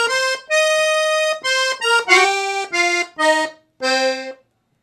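A piano accordion plays a blues call-and-response phrase in time: a string of reedy single notes in a steady rhythm, some slid and some held, ending on a lower sustained note, close and unaccompanied.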